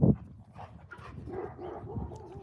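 One sharp bark up front, then dogs whine and yip quietly at a distance, with low rustling in between.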